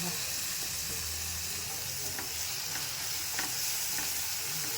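Onions sizzle in a pan while being stirred, with continuous frying crackle and occasional scraping clinks of the spatula across nearly five seconds.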